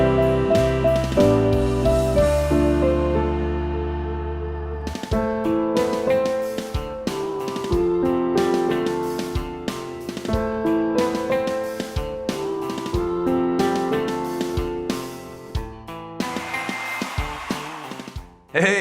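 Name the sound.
piano playing a song's chorus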